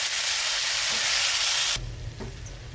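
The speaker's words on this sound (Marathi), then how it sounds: "आणि कांदा टोमॅटोचा कच्चापणा जाण्यासाठी आपण याला परतून घेऊया।" Onion, tomato, cashews, garlic and cumin sautéing in a pan for paneer masala make a loud, continuous close sizzle that abruptly softens partway, followed by faint stirring scrapes.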